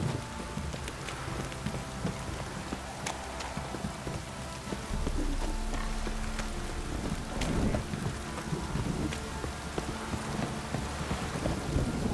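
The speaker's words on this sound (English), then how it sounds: "This downpour's a bastard, it is." Steady, dense rain pours down throughout with a continuous broadband hiss, occasional low rumbles like distant thunder underneath.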